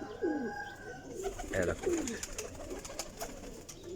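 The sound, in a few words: pigeons cooing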